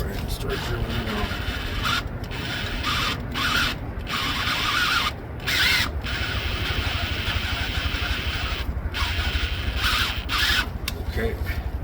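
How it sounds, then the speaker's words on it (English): A drill grinds steadily into a stripped head bolt hole in an aluminium 5.3 LS engine block, lubricated with cutting oil, a continuous rough whirring broken by brief pauses as the bit is eased off. "Go ahead and start drilling now."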